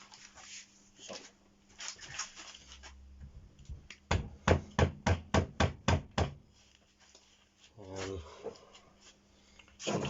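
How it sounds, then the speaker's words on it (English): A mallet strikes the cylinder of an old Honda SH50 scooter in a run of about ten quick, sharp knocks during engine work, with some quiet talk and clatter before and after. "Sometimes you do have to hammer a wee bit at it to get it to loosen up."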